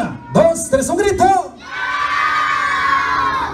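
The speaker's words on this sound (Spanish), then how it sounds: "A ver, otra vez, una, dos, tres, un grito." Children at a baptism party in Las Vegas shout together on cue in one loud, sustained group yell lasting a couple of seconds, with an adult voice calling out just before it.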